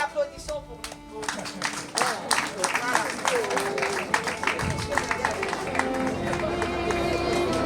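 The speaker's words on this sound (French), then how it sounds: "Et applaudissons pour lui." Audience clapping at a memorial celebration of life, a steady mass of applause building and holding, with voices and cheers mixed in.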